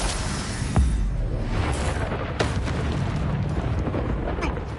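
An Incendio fire spell blast in the video game Hogwarts Legacy flares up amid dense, constant combat noise, with a few sharp bursts and booms while a voice speaks over the clamor.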